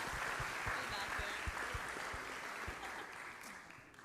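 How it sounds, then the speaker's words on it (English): An auditorium audience at a university freshman convocation claps for Sam, a steady wash of applause that holds for several seconds before thinning slightly toward the end. "let's give Sam a round of applause"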